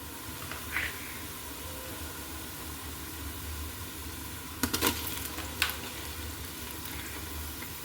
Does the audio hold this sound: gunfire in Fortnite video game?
no